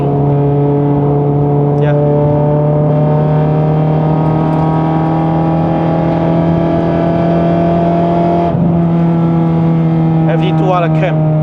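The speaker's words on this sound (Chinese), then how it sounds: "4500转 VTEC 开，要不要再听一下 VTEC 开的声音？" A Honda Civic Type R FN2 with a K24 engine revs hard as VTEC engages at 4500 rpm, a loud, sustained harmonic engine drone rising in pitch, heard from inside the cabin with a brief voice over it.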